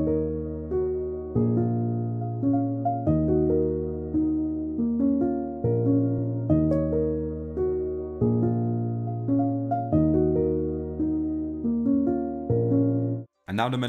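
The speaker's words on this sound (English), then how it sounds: "now I've turned my chords into a melody and it sounds like this." Simple chord progression reworked into a melody on a keyboard-like instrument: steady repeated chords with a clear top line moving over them for about thirteen seconds, ending abruptly, with no talking.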